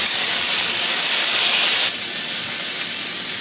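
Light soy sauce hits a hot wok during a Cantonese stir-fry of spicy green beans, a loud close burst of steamy hissing that drops to a softer steady sizzle partway through, with no talking.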